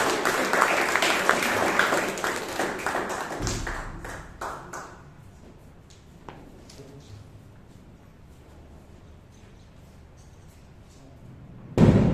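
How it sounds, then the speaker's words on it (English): Applause from an audience at a Toastmasters club meeting in Bangalore, a burst of clapping from a modest room of people that fades out after a few seconds, leaving scattered taps and quiet room noise. "So please give him a big round of applause."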